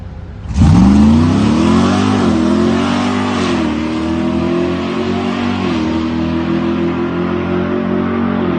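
A HEMI Ram drag-racing truck on Hoosier slicks roars to life and revs hard as it launches at a drag strip, then holds a loud sustained drone fading slightly into the distance.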